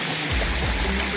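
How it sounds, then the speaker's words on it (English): A small waterfall and stream in the Meghalaya hills near Shillong rush continuously, producing a dense, close, even roar of flowing water. "hear the sound of a waterfall"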